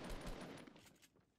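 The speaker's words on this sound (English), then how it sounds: "shoot that wall right there to your left" Video-game gunfire aimed at a wall: a short, faint volley of rapid shots that trails off into a quieter rumble within about a second.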